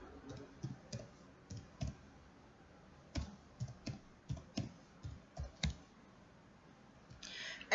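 Keys being typed on a computer keyboard into a spreadsheet cell, a scatter of separate moderately close clicks in short bursts with pauses, alone with no talk.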